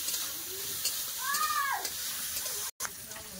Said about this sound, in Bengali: চিংড়ি মাছ আর পেঁয়াজ ভালো করে ভেজে নেব